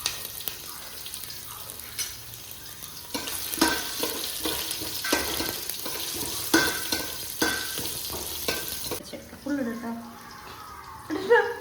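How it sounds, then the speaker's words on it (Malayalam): Onions frying with ginger and garlic for biryani: a steady close sizzle with stirring scrapes of a spoon in the pan, continuing throughout, with a brief watery clatter near the end. "നമ്മുടെ ഓണിയൻ ഇതൊന്ന് ജസ്റ്റ് ഒന്ന് വാടി വരുമ്പോൾ മൂത്ത് വരുമ്പോൾ നമ്മളതിലേക്ക് ഇഞ്ചിയും വെളുത്തുള്ളി ഇട്ട് കൊടുക്കണം"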